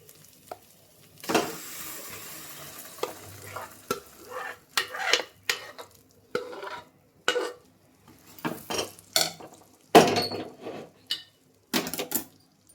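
A spoon scrapes and clinks against a metal pot in irregular stirring strokes through cooked dal, with a soft sizzle underneath, close by and without talking.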